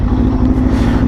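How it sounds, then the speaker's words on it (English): Loud onboard roar from the open exhaust of a 2024 Aprilia RSV4 1100 Factory Limited Edition at speed, a steady deep throbbing drone held for a brief moment, with nothing else heard. "onboard audio of that open exhaust system"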